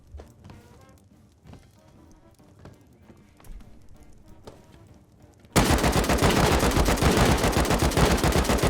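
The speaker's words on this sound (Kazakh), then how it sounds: "кім атысып жатыр отпен" Gunfire in the survival video game Rust starts with a few quiet scattered clicks and footsteps, then erupts into a dense, loud, sustained burst of rapid shots that runs to the end.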